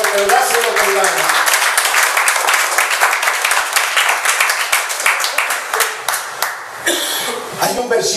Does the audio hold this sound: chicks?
no